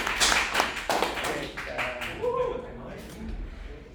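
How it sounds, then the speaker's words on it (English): A classroom gives a brief round of clapping, a short burst of several hands near the start that thins out quickly as voices and chatter take over. "give them a applause."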